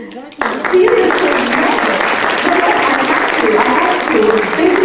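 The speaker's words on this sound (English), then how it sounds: "Big round of applause for Karen" Audience at an International Women's Day panel discussion in Ottawa bursts into loud, sustained applause that begins abruptly and holds steady as a dense wash of clapping for the rest of the clip.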